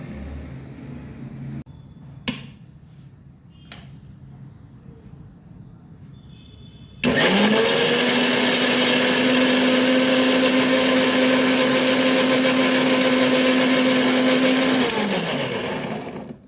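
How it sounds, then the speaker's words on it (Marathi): A few clicks and knocks, then a mixer grinder starts up loudly and whirs steadily for several seconds blending mango pulp before spinning down. "आता हा गर आपण मिक्सरच्या भांड्यातून फिरवून घेऊ"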